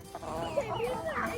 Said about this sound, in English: Chickens! They know what's on this plate.